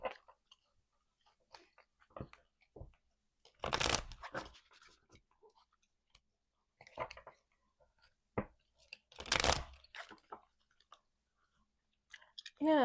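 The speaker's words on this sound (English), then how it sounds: "Jesus, this is gonna shuffle." Tarot cards being shuffled by hand in a quiet room: two bursts of riffling around the middle and near the end, separated by soft scattered taps and card clicks, close and fairly faint.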